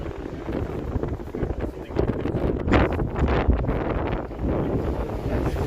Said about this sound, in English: It's windy at this intersection